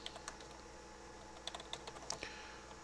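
Fingers type on a computer keyboard during basic setup of Linux Mint, giving scattered, uneven key clicks with a few sharper taps, close and fairly quiet over a faint room hum.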